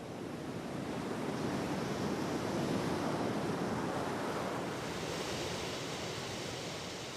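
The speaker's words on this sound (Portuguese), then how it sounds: "as ondas quebram mais distantes da praia em bancos de areia." Steady roar of ocean surf breaking on sandbars at a distance off Cassino Beach, Brazil, a continuous wash of white noise with gentle swells, wind faintly mixed in.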